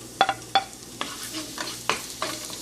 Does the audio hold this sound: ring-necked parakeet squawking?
no